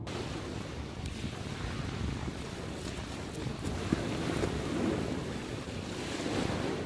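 Sea waves wash on the shore on a calm, cool day, a continuous soft surf rush with gentle swells and some wind noise, steady and moderately distant with no talking.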